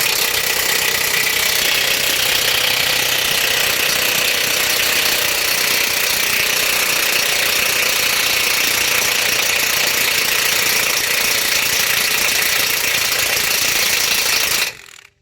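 An impact wrench hammers at a big bolt on an F-150 truck frame, making a loud, continuous rattling buzz that runs for about fifteen seconds and then cuts off abruptly.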